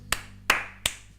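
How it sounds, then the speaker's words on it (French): Three sharp, close hand claps, evenly spaced and each ringing out briefly, with no talk. "Franchement, je t'applaudis."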